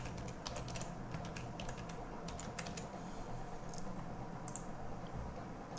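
Rapid, irregular clicks from a computer keyboard come through as someone types text, with a few sharper mouse clicks in between, all close-up over a low background hiss and without speech.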